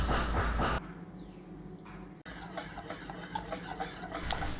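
A spoon stirs banana pudding mixture made with milk in a pan on the stove, giving steady scraping and clinking strokes against the metal after a brief louder opening.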